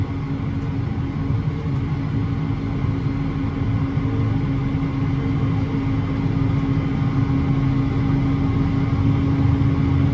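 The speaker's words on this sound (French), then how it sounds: "là le tracteur se tient à 45 km/h" A Claas Arion 630 Cmatic tractor holding 45 km/h on the road: a steady, loud low engine drone with a constant hum and cab rumble, heard alone without talk.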